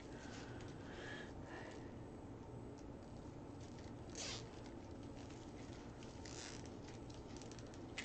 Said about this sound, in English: just tie it down with my zip tie